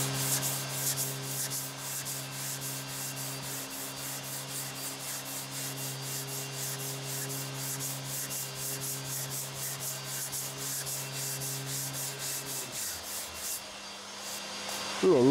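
Steady, rhythmic hand sanding of fully dried primer with 180-grit sandpaper, a close, continuous scratchy rubbing of even loudness with no talking, easing off near the end.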